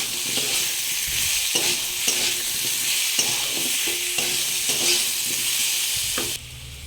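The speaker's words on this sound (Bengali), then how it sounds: "নুনটাও সাথে দিয়ে দিলাম দিয়ে একটু ভালো করে নাড়াচাড়া করে ভালো করে ভেজে নেব" Potatoes fried with turmeric and salt in a pan, giving a loud, constant hiss of sizzling oil with repeated rhythmic scrapes and clinks of a spatula as they are stirred, the sizzle dropping slightly at the very end.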